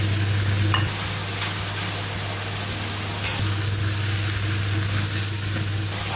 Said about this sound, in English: Now we can add our tomato to this.